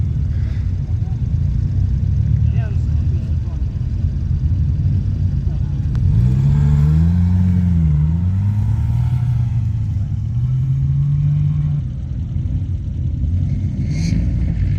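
A Honda car engine revving and rumbling loudly during grass skids, its pitch rising and falling in sweeping bursts over steady low drone.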